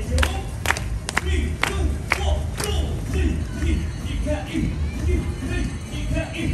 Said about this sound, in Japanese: じゃあまずはリズムに合わせて手拍子。